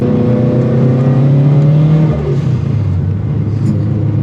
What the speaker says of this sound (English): When you push the clutch and she rattles, it's like an addicting sound.